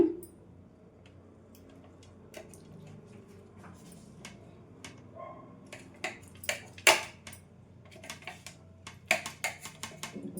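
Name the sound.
knife cutting jaggery Bombay Karachi halwa into pieces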